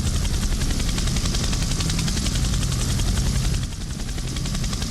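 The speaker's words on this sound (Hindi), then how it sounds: "हेलीकॉप्टर उड़ते हुए पाकिस्तान की ओर जाने लगा।" In a horror comedy cartoon, a helicopter flies with a loud, steady rotor roar and rapid chopping pulse that dips slightly near the end, heard alone without voices.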